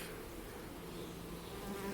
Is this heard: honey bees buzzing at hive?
yes